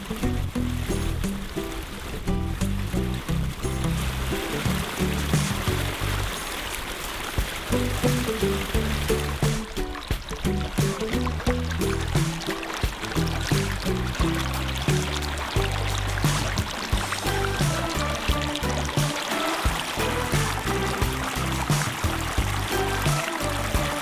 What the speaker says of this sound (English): the descent of this charming little valley with its babbling stream